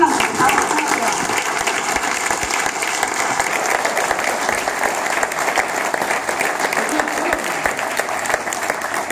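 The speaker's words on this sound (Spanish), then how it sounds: "¡Aplausos!" Loud sustained applause from a crowd, dense clapping filling the whole stretch without pause.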